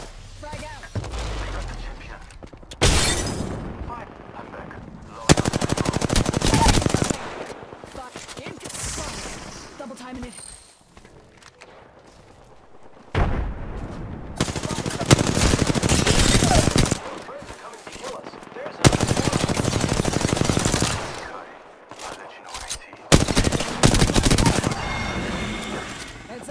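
R-301 rifle fire in the video game Apex Legends comes in loud automatic bursts of several seconds each, with quieter gaps between them, and game voice callouts are heard in between.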